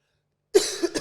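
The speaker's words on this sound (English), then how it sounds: "Sorry for the coughing, guys." After a brief silence a man gives a short, close cough, a sharp burst followed by a smaller second hack.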